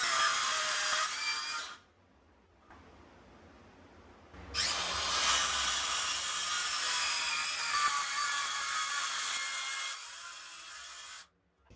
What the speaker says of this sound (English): That little battery-powered circular saw that I used to make these cuts